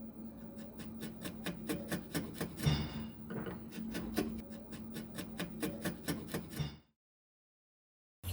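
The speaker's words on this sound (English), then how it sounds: "then cleaned up the rebate with a chisel" A wood chisel pares and scrapes along a rebate cut for table legs, giving a quick train of short rasping strokes over about seven seconds before stopping into silence.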